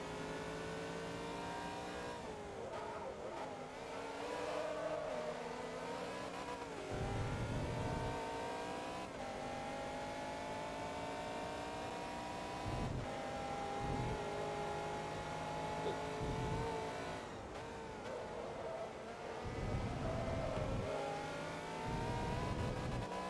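A Ferrari in the racing game Forza Motorsport 2 revs hard through repeated upshifts, its high engine whine climbing, dropping and climbing again over a low rumble, loud and continuous throughout.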